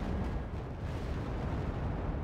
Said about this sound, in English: The VDV are once again taking another salvo from the Servals.